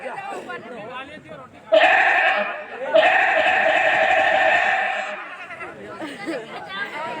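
A goat bleats in two long, loud, wavering cries close by, with village chatter and talking voices before and after the calls.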